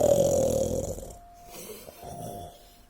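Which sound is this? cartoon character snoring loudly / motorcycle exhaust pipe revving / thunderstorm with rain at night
cartoon character snoring loudly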